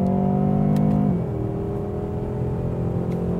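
A rear-wheel-drive BMW M6 Competition revs hard up close, its engine note holding high before dropping back to a lower, rumbling idle, with no talking.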